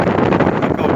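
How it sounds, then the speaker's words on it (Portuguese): Strong wind buffeting the microphone outdoors while limestone is unloaded in a field, a loud continuous rumbling roar with gusty pulses throughout. "vento demais aí ó"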